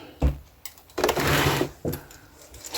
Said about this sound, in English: I want to sew from this side to make sure that the stitching stays on the binding